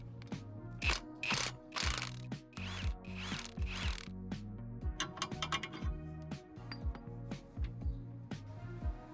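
Hand ratchet clicking in repeated bursts of quick pawl strokes, close and clear, while removing the two track bar bolts on an OBS Ford F-250 truck, with short pauses and clanks between runs.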